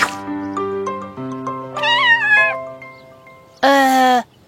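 A cartoon kitten meows several times over a bright musical backing, its cries rising and wavering, with one loud final meow standing alone near the end.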